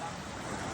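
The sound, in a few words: ocean waves at the beach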